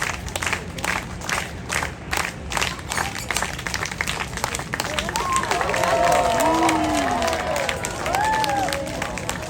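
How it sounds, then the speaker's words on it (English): A street festival crowd claps along with a performer outdoors, rhythmic group clapping and crowd noise building loudly, with excited voices and a performer's vocalizing rising over the clapping in the second half. "Okay, hands together. Clap, clap, clap, clap."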